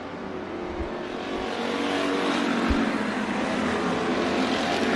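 A race car engine roars steadily down the back straightaway of Bakersfield Speedway, a loud sustained drone that builds slightly in intensity, with no speech over it.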